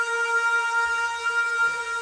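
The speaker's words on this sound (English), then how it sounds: "I took this sample, it's like someone humming whatever" A humming vocal sample played dry with no effects: a steady sustained tone with even harmonics holding for about two seconds, moderately loud and alone, with a faint low rumble entering partway through.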